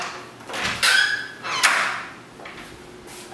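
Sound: big back door opening

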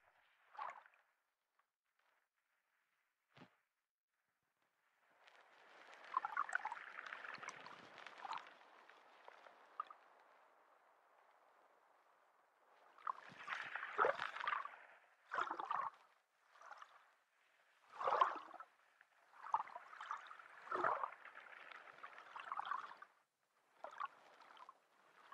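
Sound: ocean waves heard underwater

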